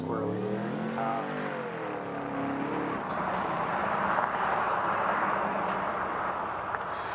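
An ICON Thriftmaster pickup truck at an autocross event, its engine a steady loud drone that builds and revs as it drives the course, with a voice talking over the first few seconds.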